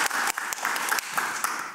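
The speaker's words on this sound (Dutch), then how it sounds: "Applaus voor Charlotte." Brief burst of audience applause at a harvest-festival presentation, dense steady clapping filling the short moment after a speaker thanks a presenter.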